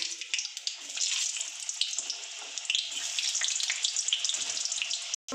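Potatoes fry in hot oil for mutton kosha, a steady close bright sizzle with crackling bursts running throughout before cutting off abruptly at the end.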